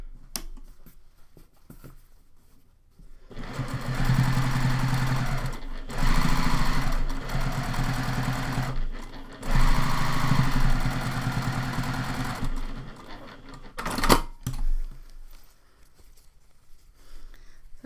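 A sewing machine topstitches fabric in several bursts of rapid, steady stitching, each lasting a few seconds and separated by short pauses, close and fairly loud.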